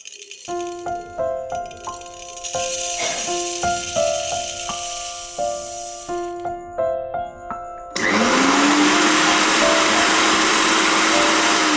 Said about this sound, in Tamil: வறுத்து வச்சத நல்லா பவுடர் பண்ணி எடுத்துட்டேன்